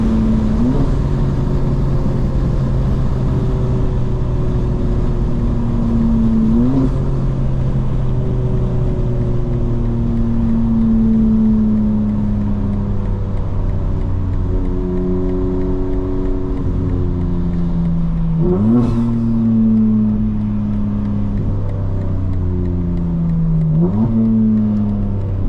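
A 2025 BMW M4 Competition accelerates hard from inside the car, its engine note climbing steadily through the gears with sharp pitch drops at each shift, loud and continuous throughout.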